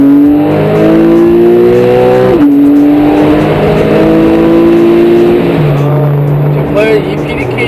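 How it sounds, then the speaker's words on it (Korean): A Porsche 911 (991) Carrera S flat-six fires up and revs, its sharp mechanical note climbing, dropping and climbing again through several loud rises, with a voice talking underneath. "실제로 한번 시동을 걸어볼까요?"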